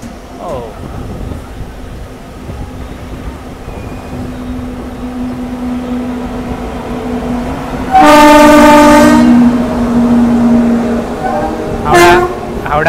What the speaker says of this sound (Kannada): ಹೌಡಾ SMT Bengaluru Duronto express ಪ್ಯಾರಲಾಗಿ enter ಆಗ್ತಾಯಿದ್ದೀವಿ ನೋಡಿ ದುರಂತೋ ಜೊತೆ.